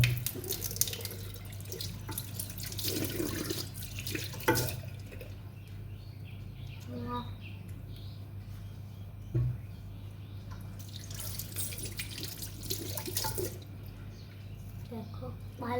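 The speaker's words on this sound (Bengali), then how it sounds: "তো এই দেখো এবার মুখটা ধুয়ে নিই চলো।" A tap runs into a sink while someone washes their face, with splashing and dripping water coming and going at a moderate level, and a person talking at times.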